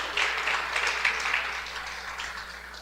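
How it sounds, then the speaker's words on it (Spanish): A church congregation claps for a guest during a Spanish-language worship service, a moderate burst of applause that starts sharply and gradually fades away, with no voices over it. "Démosle un aplauso."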